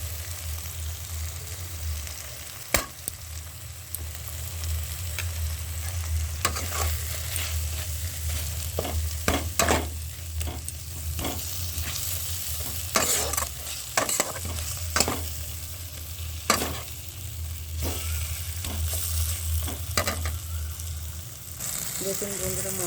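Spice paste (masala) with dry chili powder fries in oil for a chana paneer dish, giving a constant close sizzle broken by repeated scraping and clinking stirs.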